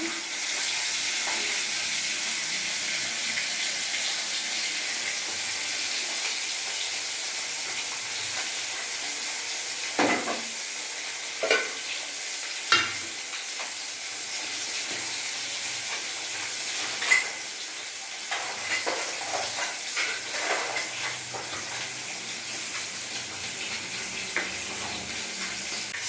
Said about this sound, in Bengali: মাছটা আমি লাল লাল করে ভাজবো